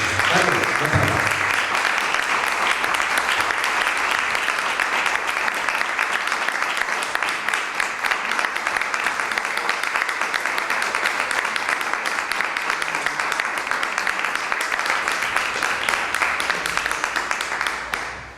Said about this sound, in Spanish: recibir por un aplauso a Carlos J. Álvarez, mi gran amigo y escritor, y autor de esta obra.